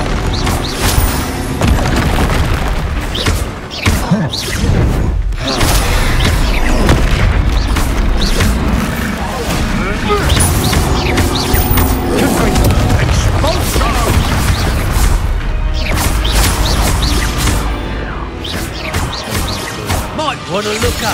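Spell impacts in Hogwarts Legacy land as a dense, continuous barrage of booms, crashes and magical bursts, loud and layered for the whole stretch, with scattered voice amid the clamor.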